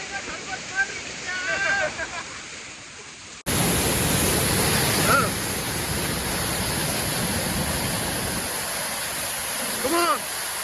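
Loud, steady roar of rushing water from Oliyappara waterfalls in Kerala fills the scene, with a voice speaking briefly over it near the start and end.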